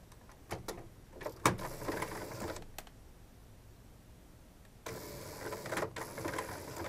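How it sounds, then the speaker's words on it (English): Up close, an HP inkjet printer runs its printhead cleaning cycle, giving off quiet bursts of mechanical whirring and clicking with a calm pause in the middle. "You can now hear the printer going through its cleaning cycle."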